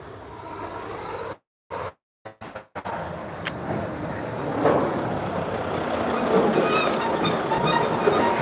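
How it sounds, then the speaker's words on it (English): A large truck arrives at a slaughterhouse, with a low rumbling engine and road noise that builds steadily louder as it approaches, broken early by a few brief dropouts, with a faint squeak or two. "The truck's coming in now, guys."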